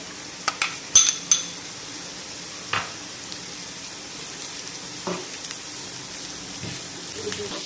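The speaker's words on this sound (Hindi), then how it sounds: "प्याज हमारे अच्छे से फ्राई हो चुके हैं।" Chopped onions fry in a pan for an Afghani potato-and-egg omelette, giving a soft, steady sizzle with a few sharp clicks and scrapes of a spoon against the pan near the start, close and fairly quiet.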